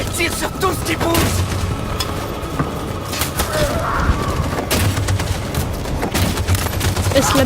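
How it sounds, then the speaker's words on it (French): Machine gun fire in the video game Detroit: Become Human, rapid bursts and scattered booms rattling continuously across a noisy battle soundscape, loud and dense throughout. "Cette saloperie de mitraillette tire sur tout ce qui bouge."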